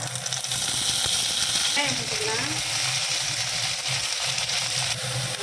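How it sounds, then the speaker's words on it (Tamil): Mustard seeds, urad dal and curry leaves fry in hot oil as part of a dried-fish thokku. The sizzle is continuous and fairly loud, with occasional crackling. "கடுகு உளுத்தம் பருப்பு போட்டுக்கலாம் கடுகு பொறிஞ்சிட்டுங்க கருவேப்பில போட்டுக்கலாம்"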